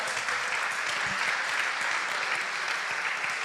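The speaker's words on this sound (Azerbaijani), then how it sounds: "давайте поаплодируем" Applause from a church congregation, a dense and even wash of clapping that holds at a steady level throughout.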